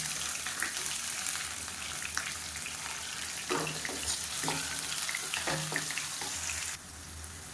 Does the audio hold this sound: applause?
no